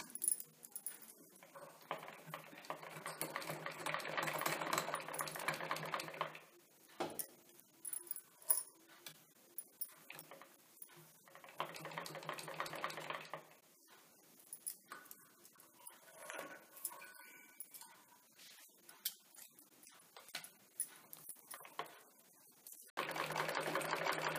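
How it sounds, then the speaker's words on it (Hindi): An electric sewing machine stitches a strip onto a single katori blouse in three separate whirring runs of several seconds each, close and loud, with quieter handling noises in between. "अब हम इसे सिलाई कर लेंगे"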